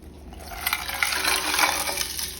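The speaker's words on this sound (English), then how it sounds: "I'm going to add ice" Ice tumbles into a container of water for brining chicken, making a continuous clattering, rattling pour with splashy gurgling, close and fairly loud, with no talk over it.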